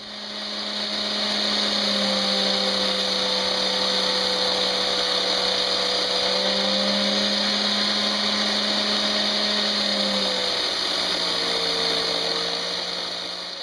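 A high-pitched angle grinder whine runs continuously and loudly for several seconds, with slight pitch dips as it bites into a steel knife blade.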